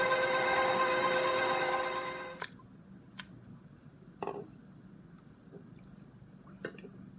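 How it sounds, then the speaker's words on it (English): A stand mixer churns chocolate chip cookie dough with a steady motor whir for about two seconds, then cuts off, leaving a few faint clicks and taps in near silence. "I'm placing the 2 eggs in the stand mixer, and now I'm going to turn it back on and continue mixing."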